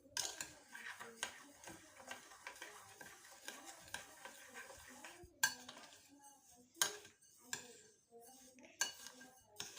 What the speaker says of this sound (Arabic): نقلب كده